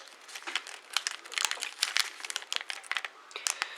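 Paper is creased and folded for an origami transforming Transformer, with close crinkling and crackling bursts, irregular and fairly loud, and no talk.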